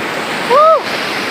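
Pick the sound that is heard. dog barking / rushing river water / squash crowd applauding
rushing river water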